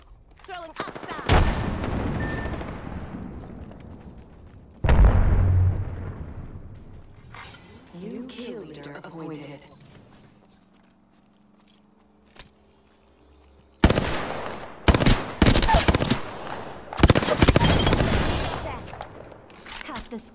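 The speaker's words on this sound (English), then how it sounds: "I am taking fire." Gunfire in the Apex Legends video game: bursts of rapid shots and loud blasts separated by quieter stretches, with a dense volley of automatic fire near the end, no words spoken.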